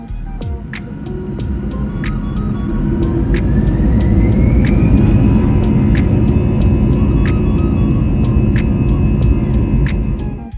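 Inside an airliner cabin at the gate, a loud steady engine and air-system roar swells slightly and holds, with a rising whine and faint clicks over the constant drone as the plane pushes back before takeoff.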